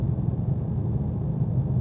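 Inside a Mercedes-AMG GT63 S cruising at 40 mph in fourth gear, a low steady engine drone and road rumble fill the cabin, even and unbroken for a couple of seconds.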